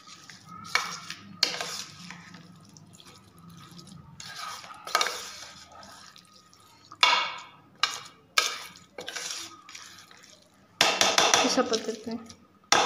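Curd rice stirred and mixed with a spoon in a metal vessel, giving irregular clinks and scraping bursts of utensil against dish, close and moderately loud with pauses between.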